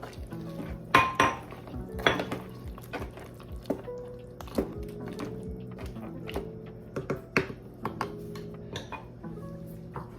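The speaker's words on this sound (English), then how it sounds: "We're gonna add our frozen okra." Frozen okra goes into a pot of Cajun seafood gumbo, with clinking and clanking of a utensil against the pot and scattered metallic taps, fairly close, with no talking.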